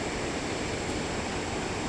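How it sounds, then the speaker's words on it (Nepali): A steady, unbroken wash of rushing water rises from the Khudi river flowing below, a constant moderate roar with no talking over it. "अनि यो तल बगिरहेको चाहिँ खुदी खोला हो मित्रहरू।"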